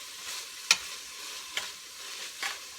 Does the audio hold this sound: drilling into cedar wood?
no